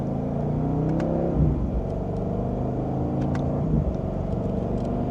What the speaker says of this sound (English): you can hear the exhaust too